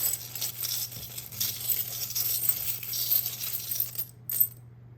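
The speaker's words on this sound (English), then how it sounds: "roll of the dice. Where'd it go?" A tiny die clatters and rattles across a hard surface in a quick series of close ticking taps during a tarot reading, over a steady low mains hum.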